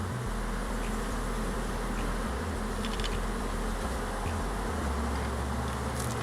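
A dense, steady buzzing of many honeybees in a full hive box fills the clip, loud and close, with a low rumble underneath and no voices.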